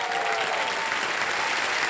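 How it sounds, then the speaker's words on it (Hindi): Sustained studio audience applause on the set of Kaun Banega Crorepati, a dense, steady wash of many hands clapping at even loudness throughout. "तालियां बजती रहे इनके लिए"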